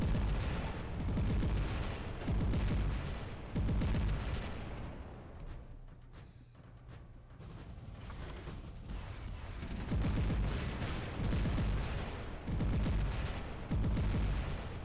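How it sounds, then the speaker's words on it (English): Robot weapons fire at a shield that blocks the shots in the War Robots video game, with repeated loud bursts of heavy impacts pulsing in clusters and a brief quieter lull in the middle. "This guy's gonna fire his pins, but my shield's just gonna block it."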